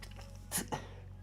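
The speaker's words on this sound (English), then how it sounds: "Hold on, I need to sneeze." A single sneeze bursts out sharply mid-clip from a person indoors, followed by a short breathy catch, over a faint low hum.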